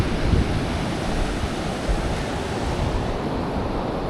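Ocean surf rolling onto Playa Amatal beach in La Libertad, El Salvador, a steady loud wash of breaking waves with wind across the microphone and no voices.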